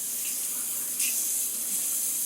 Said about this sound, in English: So you do actually wash your hands.